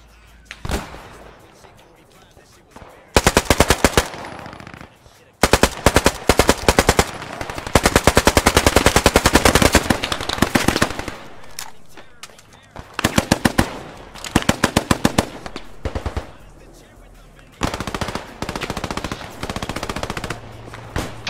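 MG34 machine gun fire in the World War II shooter Post Scriptum comes in long, loud rattling bursts separated by short pauses, with scattered single shots and faint voices between bursts.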